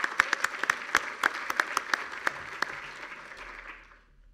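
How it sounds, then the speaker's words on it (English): A small audience at a tech startup showcase claps for the participants, individual hand claps standing out sharply at first before thinning and fading away. "a big round of applause to everyone on the screen"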